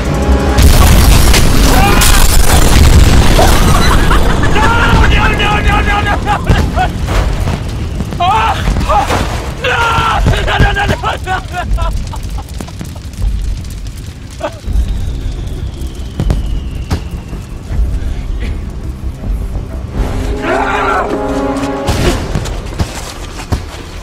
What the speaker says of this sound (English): now we get to celebrate by watching the fireworks